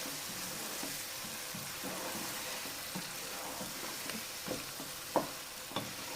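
Tomato paste frying with chicken and peas in a pan gives a steady, close sizzle with soft stirring scrapes and a couple of sharp clicks near the end. No one speaks.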